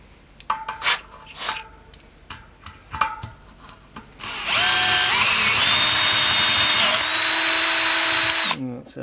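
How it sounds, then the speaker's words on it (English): A power drill whines steadily for several seconds, drilling through a fat bike rim on a built wheel with a high grinding tone, after a few lighter clicks and taps beforehand. "So now the second pilot drill's been put in all the way around."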